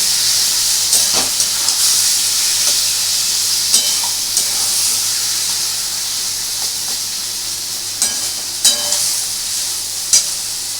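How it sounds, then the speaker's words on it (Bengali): Almond paste frying with potatoes for aloo dum: a steady loud sizzle and hiss from the pan, with intermittent scraping and knocking as the mixture is stirred, and no talking. "এবার আমি বাটাটা এর মধ্যে পুরোটা দিয়ে দেবো এটাকে একটু ভালো করে কষতে হবে"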